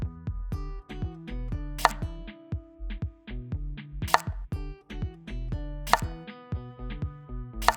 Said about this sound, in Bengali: এবার ছুরি দিয়ে এটিকে বিস্কুটের মতো ছোট ছোট চাকা চাকা করে কেটে নিন।